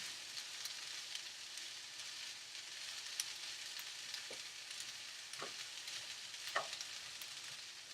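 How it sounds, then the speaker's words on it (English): Lima beans and corn toast in a pan with a steady, fairly quiet sizzle, broken by a few soft clicks of a utensil scraping the pan. "So I'm toasting up my lima beans and my corn to just heat it up."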